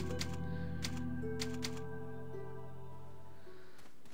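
Typewriter save effect from the video game Resident Evil 4: a few quick mechanical clacks in the opening seconds over soft, sustained tonal save-room music that carries on to the end.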